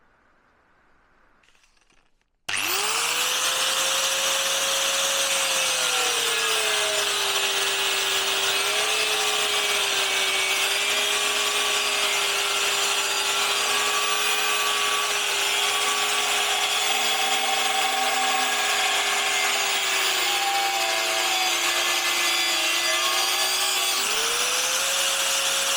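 A power cutting tool slices through the front mudguard of a Honda Benly bobber build, starting abruptly after a faint lead-in and running as a loud, steady whine with a shifting pitch for over twenty seconds.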